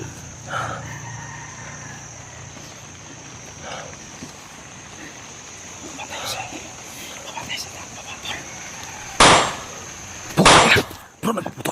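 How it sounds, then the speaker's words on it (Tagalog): Firecrackers or gunshots set off, heard as two loud, sharp bursts near the end after a quieter stretch of background noise with some voices and scattered clanks. "Bro, nagpaputok si Timyong, bro"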